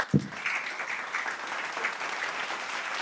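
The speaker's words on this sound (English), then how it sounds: "Please, another round of applause for Mr." Steady applause from a morning conference audience, a dense wash of clapping that stays fairly even throughout after a brief low thump at the start.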